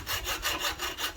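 Hand saw cutting a stuck fitting loose on a Sea Ray 240 cabin cruiser, with steady back-and-forth strokes about three per second, close and moderately loud.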